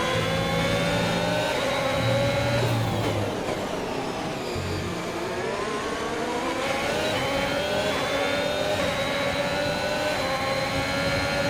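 A racing car engine in an F1 video game at the USA Grand Prix whines steadily and loudly throughout, its pitch rising and shifting as it revs and accelerates, with no talking.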